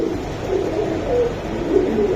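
Racing pigeons coo softly close by, low repeated murmuring calls over a steady background hum, with no talk.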